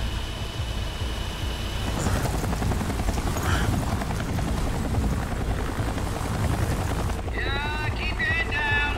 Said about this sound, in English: Land this chopper, man.